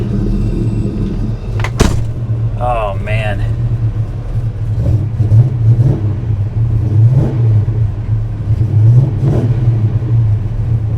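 An SSR truck's engine rumbles steadily close by, with a sharp start at the beginning followed by rising revs. Someone talks over the engine noise.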